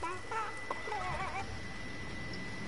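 Chickens cluck in a video game, short clucking calls over a steady game background hum, with some faint speech-like sounds mixed in.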